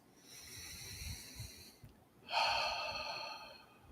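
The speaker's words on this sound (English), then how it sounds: "take a deep breath" A deep breath during a guided practice, a soft drawn-in inhale followed by a longer, louder breathy exhale, close and alone with no talk.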